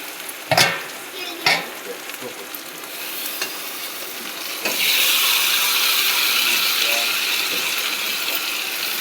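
Meat sizzling and frying in a pan with onion, garlic, tomato and slit green chillies, a couple of sharp stirring clatters first, then a steady loud hiss once the meat goes in, close up with no talk.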